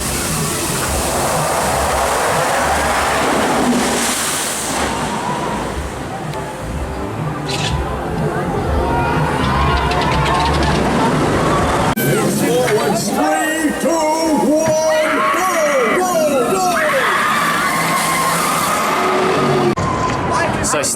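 A night ride on the Stealth launched roller coaster at Thorpe Park during Fright Nights: loud rushing wind and roaring track noise, then a busy stretch of shouting and screaming riders.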